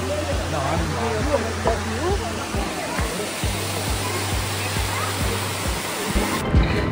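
Elephant Falls in Cherrapunji pours in a constant, loud rush of falling water, with a voice talking faintly beneath the roar.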